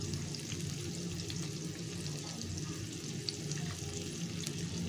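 Panch phoron spices dropped into hot oil beside shrimp in a pan: a quiet, continuous hissing sizzle with a faint, even texture and no talking.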